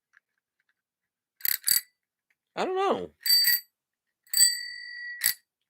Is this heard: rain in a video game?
no